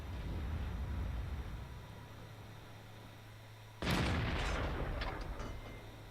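Type 59 tank cannon firing in World of Tanks, one sharp loud blast partway through followed by a decaying rumble over steady engine and ambient noise.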